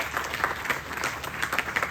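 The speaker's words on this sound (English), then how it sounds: "Please give a round of applause." An audience at an outdoor Ramayan in the Park gathering bursts into steady applause, a dense wash of many hands clapping at moderate loudness without pause.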